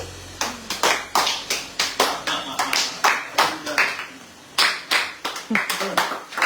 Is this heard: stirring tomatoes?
no